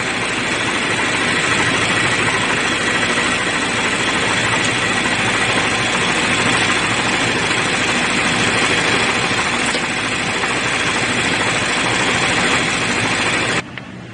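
A 2013 Chevy Malibu with a no-start fault runs at idle with a component unhooked, giving a steady, loud, unchanging engine drone that cuts off abruptly at the end.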